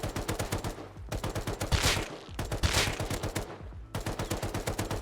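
Automatic gunfire in the video game Rust, a weapon that kicks straight up, fired in three long rapid bursts of sharp, loud, evenly spaced shots with brief pauses between them, close and with no talking.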